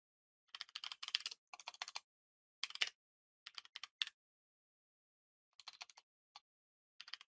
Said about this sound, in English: I will begin with writing the code.